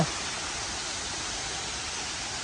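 Tham Soda waterfall at Wat Tham Soda pours in a steady, dense broadband roar that stays constant throughout, with no voices audible.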